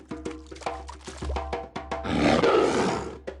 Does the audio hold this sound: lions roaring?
yes